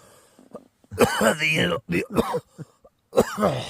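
A person coughs and clears their throat in a few harsh bursts, close to the listener, broken up by short vocal sounds.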